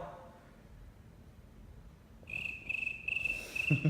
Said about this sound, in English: Okay, I hear crickets.